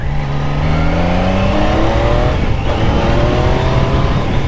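A 2024 Triumph Daytona 660 motorcycle accelerates hard, its engine note climbing steadily through the revs in a loud, close, continuous roar with wind rush and no talk.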